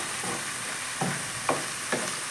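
Green onions being stirred in a hot pan for mutabak, a soft steady sizzle with three distinct scrapes of the utensil at regular intervals, no talking.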